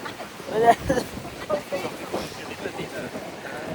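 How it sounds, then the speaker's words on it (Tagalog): Wind gusting along the Yehliu coast on Taiwan's north shore, blustery rumbles buffeting the microphone with a soft wash of ocean waves beneath, while voices talk faintly over it. "Tas dinadala ng hangin yung waves."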